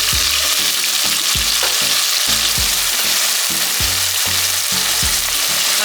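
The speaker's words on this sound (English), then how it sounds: "I'll just wait a while for the oil to get hot, then I will put the ground provision in." Ground provisions for a Jamaican salt fish and tomato meal frying in hot oil, a loud, steady sizzle with a run of regular clattering knocks from a utensil against the pot, close up and with no talking.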